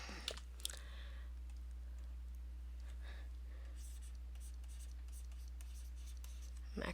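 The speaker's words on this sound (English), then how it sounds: "Let me try writing that in English." A pen scratches out words on a drawing surface in soft, steady strokes and short scribbles, quiet and close over a constant low electrical hum.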